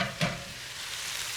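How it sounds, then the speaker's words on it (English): Chicken breast wrapped in prosciutto fries in a pan over medium-high heat, giving a steady close sizzle with a brief louder crackle near the start. "So we have our chicken wrapped in prosciutto, and this is on a medium-high heat"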